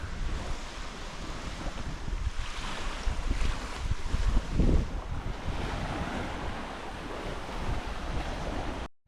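Steady sea surf washing onto the shore beside a boardwalk in Palawan, a continuous rushing roar with some wind buffeting, swelling slightly midway, no voices.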